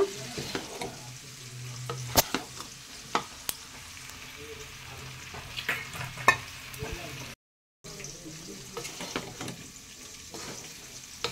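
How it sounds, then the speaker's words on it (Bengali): Cauliflower and potatoes stir-fry in a pan with a soft continuous sizzle, broken by sharp scrapes and clinks of a spatula against the metal at irregular intervals, up close. "দেখো বন্ধুরা, ফুলকপি আলু কষা হয়ে গেল।"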